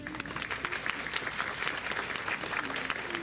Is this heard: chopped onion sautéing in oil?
no